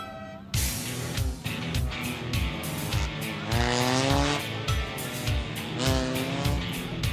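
Hornet-class race cars at a Trunk or Treat final race, engines revving up and down as they pass, loud and close, with tires squealing in repeated bursts.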